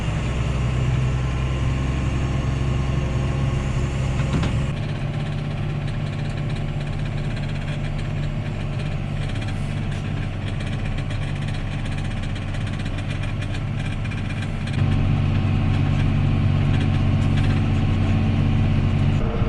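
A John Deere 7130 tractor engine runs steadily with the PTO engaged, a loud, close diesel rumble throughout that rises in low-end intensity toward the end.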